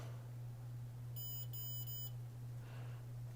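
Touching the two probes of a multimeter together sets off a single faint, steady continuity beep lasting about a second, over a constant low electrical hum and no talk.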